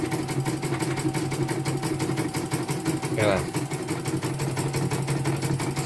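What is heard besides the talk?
CNY embroidery machine running under test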